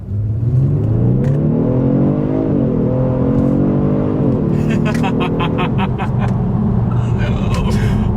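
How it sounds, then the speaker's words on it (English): A 2020 Genesis G70 accelerates hard from inside the cabin, engine note rising steadily in pitch, dropping briefly at each automatic upshift, then climbing again as a loud continuous drone. "let's do a quick little acceleration, letting the car do the shifting, and let's see how quickly we can get this new 2020 G70 here up to speed"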